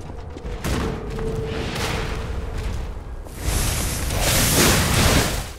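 Cannon fire in the video game Lies of P: deep booming blasts over a rumbling battle backdrop, with a heavier roar building in the second half, loud and continuous.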